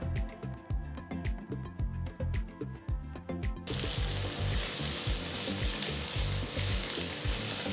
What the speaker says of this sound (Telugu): జస్ట్ తక్కువ నూనెతో పాన్ ఫ్రై చేస్తున్నాను